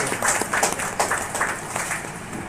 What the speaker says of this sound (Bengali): সব প্রত্যেকের কাছে অনুরোধ একটু করতালি দিয়ে অন্তত উৎসাহিত করার জন্য